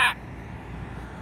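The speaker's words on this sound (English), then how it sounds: "There goes that big old crow." One short, loud caw from a big crow along Route 66 in California, close and sharp at the very start, followed by quiet outdoor background noise.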